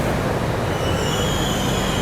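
The Pune Kanyakumari Express runs on the rails, a dense, steady roar of wheels and track noise with a faint high metallic squeal riding over it, close and continuous.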